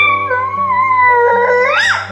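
A voice imitates a cat's meow: one drawn-out, tonal mew lasting about two seconds that rises in pitch near the end, close and clear.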